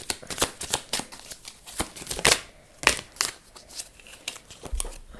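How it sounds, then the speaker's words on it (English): Tarot cards shuffled by hand in a run of quick, crisp riffling bursts and flicks, close and fairly loud, with a few sharper snaps standing out. "the cards are just flying out"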